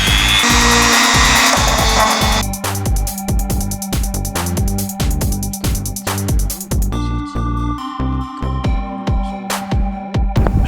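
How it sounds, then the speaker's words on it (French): A power drill bores a small hole through a part of a mechanical 3D model, a loud steady whine with grinding bursts and rising pitch shifts as the bit cuts, running continuously up close with no talking. "je pense que je vais faire un petit trou là, ici"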